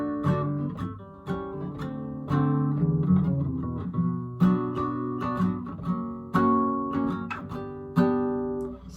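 An acoustic-style guitar plays a riff, a smooth, steady run of strummed chords and picked notes with a clear pulse, close and solo without talk.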